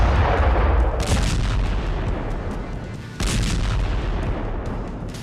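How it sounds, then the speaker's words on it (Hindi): Artillery fire and explosions roar loudly and continuously, with heavy low rumbling booms and two sharp new blasts cutting through the sustained barrage, with no voices. "बेहिसाब बारूदी विध्वंस"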